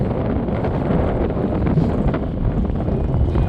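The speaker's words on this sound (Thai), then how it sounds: "ลมแรงมากเลย" Strong wind at night by the sea buffets the microphone in a loud, continuous roar, with faint wave and boat sounds underneath and no talking.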